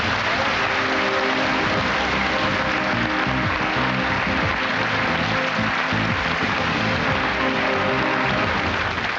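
A television game show studio audience in 2003 cheers and applauds, with dense sustained clapping and crowd noise filling the whole stretch at steady, loud volume.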